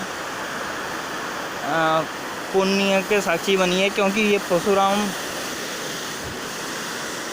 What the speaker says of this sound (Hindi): रामगंगा नदी जो मेन यहाँ से नगरों से गुजरी है, इसका आप दर्शन कीजिए